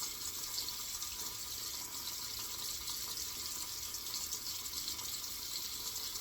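Steady running water from a tap is added to vintage Colgate shaving soap, a constant hissing flow with no pauses and no talking.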